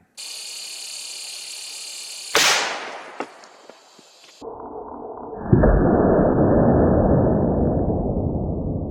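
Rifle shots from a 9.3x62mm firing Hornady 286-grain InterLock loads into ballistic gel: two loud, sharp cracks a few seconds apart, each with a rolling outdoor echo, and no talking.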